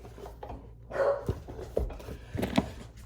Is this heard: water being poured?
no